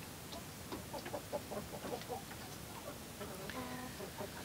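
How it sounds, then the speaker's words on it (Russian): Chickens and roosters cluck in a coop, a busy cluster of short, rapid clucks and chatter over steady background noise, ending with a louder drawn-out call from one bird. "Три петушка сверху, уже два петушка."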